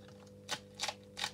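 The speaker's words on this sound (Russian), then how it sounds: "Оно очень прикольно кликает." A homemade antistress cloud toy clicks three times, sharp little snaps spaced unevenly and heard close but faint over a quiet background hum.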